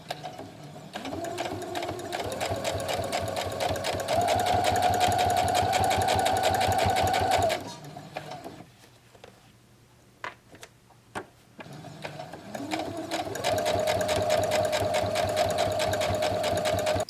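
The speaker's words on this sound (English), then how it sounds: "the edge stitch is basically a stitch I'm going to do really close to the edge" Sewing machine edge stitching close to the folded edge of fabric, running in two steady bursts with a rising motor whine and a short quiet pause with small clicks between them.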